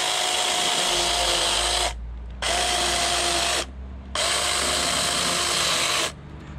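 Mini cordless chainsaw cutting into a pumpkin for Halloween carving, a high, steady electric whine in three bursts with short pauses between, loud and close.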